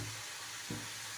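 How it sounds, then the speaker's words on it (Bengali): Turmeric and chili powder fry briefly in a pan, a faint steady hiss and sizzle with a soft stirring scrape partway through and no talking. "এখন আমি এটা একটু ভেজে নিচ্ছি।"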